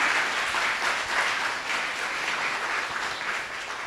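Steady applause from an audience at a volunteer appreciation gathering, a dense, continuous wash of clapping at moderate distance with no voices over it.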